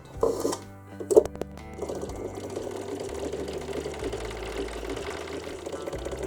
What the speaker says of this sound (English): And then I just started sewing.